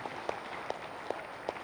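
An audience at a spiritual gathering claps in slow unison, sharp regular beats spaced evenly over a soft background wash, moderately loud.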